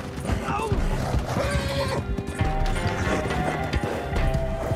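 Horse hooves pounding at a gallop in Red Dead Redemption 2 Online, a continuous rhythmic clatter under game sounds while someone talks over it.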